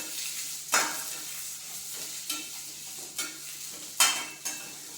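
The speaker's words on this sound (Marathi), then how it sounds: "आता कांदा आपण थोडासा गुलाबी रंगावर येईपर्यंत परतून घेतला" Two large chopped onions being stir-fried in a pan until pink, a soft steady sizzle with five distinct scraping strokes of a spatula spaced unevenly across the stretch, close and fairly quiet.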